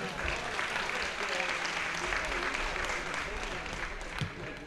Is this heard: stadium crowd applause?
yes